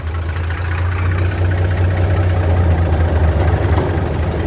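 Steady low diesel rumble from the engine of an M816/819 military wrecker truck, idling close and loud with a constant throb and no speech.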